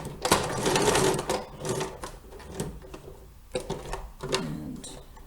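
Sewing machine stitching elastic onto a fabric face mask, short uneven bursts of rattling stitching with pauses and handling clatter between them, close and moderately loud.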